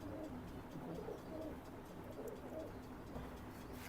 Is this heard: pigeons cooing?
yes